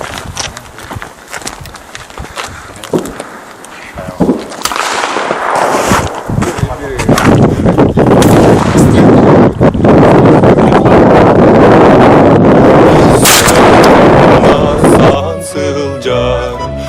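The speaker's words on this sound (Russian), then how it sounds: "МР-153. Самое народное ружье последних десятилетий. 12 калибр, полный чок." A 12-gauge MR-153 shotgun with full choke and a 730 mm barrel fires outdoors, giving sharp loud reports amid heavy wind noise on the microphone, with a sustained roaring rush through the middle of the clip.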